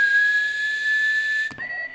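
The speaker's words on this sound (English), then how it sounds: "Okay, so there's me whistling." A steady, high human whistle, recorded into a DIY lo-fi sampler synth, holds one pitch for about a second and a half, then breaks off and resumes slightly higher and softer.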